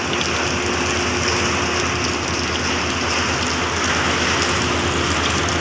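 Steady rain falling in the dark before dawn, a dense, even hiss of drops on surfaces, close and constant with no talk.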